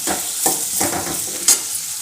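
Meal maker gravy base sautéing with salt in a pan: a short run of close, scraping stirs over a soft, steady sizzle, with one sharper clink near the end.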